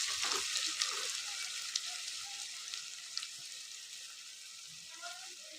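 Onions fry to a reddish colour in a pan for egg pulusu, a steady, fairly soft hissing sizzle with faint crackles throughout.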